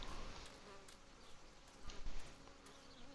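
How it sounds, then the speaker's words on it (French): Flies buzz continuously and close by in the video game Martha Is Dead, a dense droning hum with a few louder passes, heard alone without speech. "Pourquoi il y a autant de mouches?"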